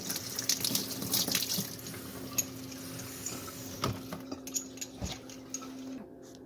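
Running water from a tap rinsing the steam wand of an espresso machine, a steady close splashing with small clinks and knocks, moderately quiet, fading out near the end.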